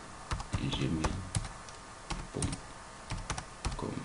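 An email address is typed on a computer keyboard: close, crisp key clicks in uneven bursts with short pauses, set against a steady low room hum and no talk.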